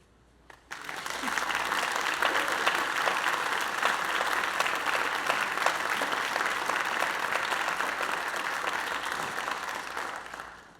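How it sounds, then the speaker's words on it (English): A school-district program audience applauds for a student performer, Jada. The sustained, full-bodied applause starts abruptly, holds dense and loud throughout with scattered individual claps, then tapers slightly at the end. "Let's give her one more round of applause."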